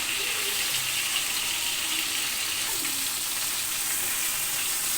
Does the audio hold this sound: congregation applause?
no